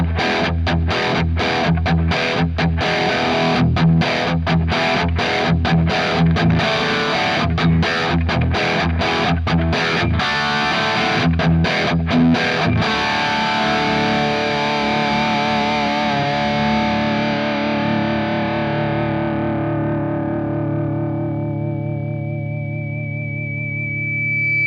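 Heavily distorted electric guitar run through a Kemper rock profile with a modern voicing, tight chugging riffs with choppy palm-muted stops, then a long sustained chord ringing out and fading, loud and close with no voices.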